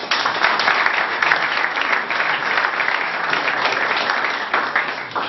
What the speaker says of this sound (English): I didn't even ask him to applaud, and they did.